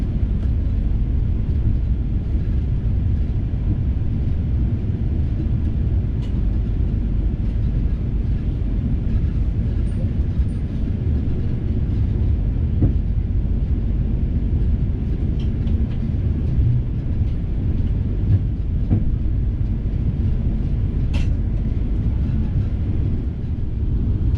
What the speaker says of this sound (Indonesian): Untuk kereta api Parayangannya melintas langsung.